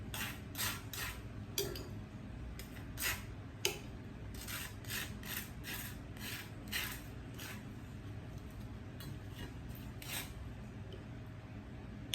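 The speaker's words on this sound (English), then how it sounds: "Now I'm gonna apply the butter to my bread." Butter spread across slices of bread for bacon and chicken sandwiches: repeated soft scraping rubs in short strokes, close and fairly quiet, with no talking.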